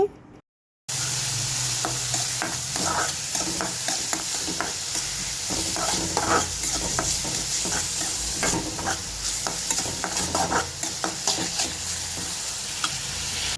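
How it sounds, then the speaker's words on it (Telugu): Green chillies frying in a pan on a low flame, a steady close sizzle with repeated scraping and stirring strokes of a spatula, after a brief silent start, with no talking. "ఇదంతా కూడా మనం బ్రౌన్ కలర్లో వచ్చేంత వరకు కూడా బాగా ఫ్రై చేసేసుకోవాలి"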